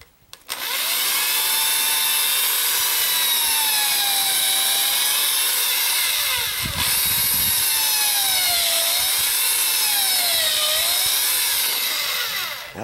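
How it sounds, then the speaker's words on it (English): A power drill bores a pilot hole for a deadbolt strike plate, a loud close continuous whine that holds throughout with a wavering pitch as the bit works into the door frame. "I want to get a pilot hole drilled in there."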